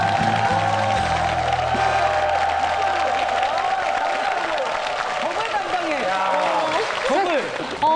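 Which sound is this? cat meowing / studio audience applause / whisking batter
studio audience applause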